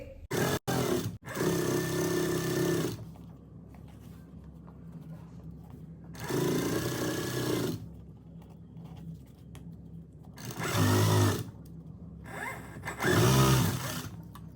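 A sewing machine stitches a fabric strip onto the edge of a lace trim for a trouser hem or sleeve, running in several separate bursts of steady, close whirring with quiet pauses between them.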